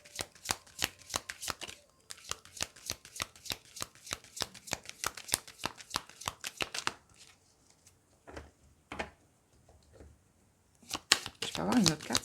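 Tarot cards shuffled in rapid, dense riffling bursts for about seven seconds, then a few scattered card handling sounds, with a voice speaking near the end.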